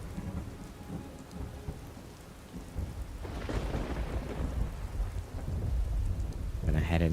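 Heavy rain pours steadily in Skyrim while a deep rolling rumble of thunder swells midway and lingers, loud and continuous with no talking.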